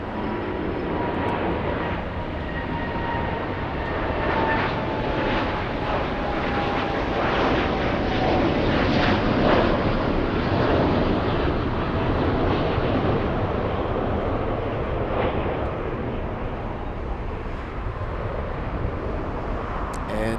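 United Airlines jet at LAX departing for Narita, a steady engine roar with a slowly falling whine, moderately distant and continuous, with a voice talking faintly underneath.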